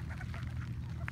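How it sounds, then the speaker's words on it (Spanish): Wild ducks quacking in short, nasal bursts, fairly close, with several calls overlapping over a low background rumble. "Mire todos los patos."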